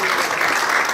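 A church congregation claps during a worship service in a short, dense burst of applause, a steady wash of many hands filling the room.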